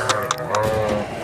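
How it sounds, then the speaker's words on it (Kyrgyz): Sheep at a livestock market bleat in several short, close calls in quick succession over a steady crowd murmur. "Мына койлорду караңыз."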